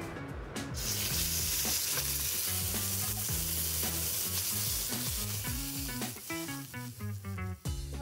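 Meat laid in a hot pan to sear, a dense close sizzle that rises suddenly and holds steady, with occasional crackles and soft clinks and no talk.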